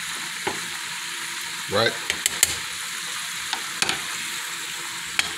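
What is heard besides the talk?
gas stove flaring while cooking black-eyed peas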